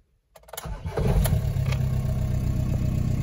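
A Talbot camper fitted with a swapped PD130 engine cranks after a moment of silence, catches and settles into a loud, steady idle close by.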